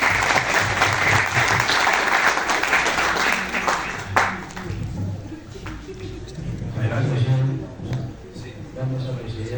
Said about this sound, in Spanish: Aplausos para el autor.